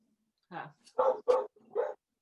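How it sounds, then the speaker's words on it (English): Several dogs bark in a short burst of about four sharp woofs, fairly close, with people talking in the room around them. "Oh, the dogs are barking there, Lucy."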